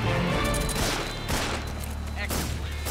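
Gunfire in Metal Gear Solid 3: Snake Eater, a dense burst of loud game shots and booms running through most of the stretch, with a player's voice talking over it.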